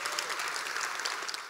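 A crowd at a festival event applauds as two costumed historical characters, Évangéline and Gabriel, are introduced, with dense, continuous clapping close and loud throughout.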